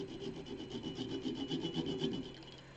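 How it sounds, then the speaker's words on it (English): Hand sanding of a wooden chess piece being turned on a lathe, a steady close rasping rub that continues without pause for under three seconds, with no voices present. "fine tune it with sanding"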